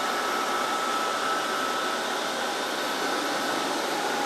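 Narwal S20 Pro wet-dry vacuum running in turbo mode, a loud steady motor whine and airflow roar that continues unchanged throughout, with no talk.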